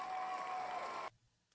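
Applause on a podcast, a brief burst of clapping that cuts off abruptly after about a second, leaving near silence.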